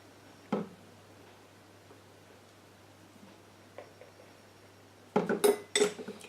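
A spoon clinks against a small container while measuring vegetable glycerine for a homemade face serum: a single tap, then a brief cluster of light metallic clinks and scrapes close by in a quiet room.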